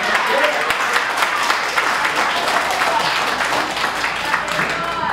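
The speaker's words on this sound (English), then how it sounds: "I want everybody to hear that clapping." Guests clap at a wedding reception, with a lively spatter of hand claps running throughout while voices talk and call out over it fairly close by.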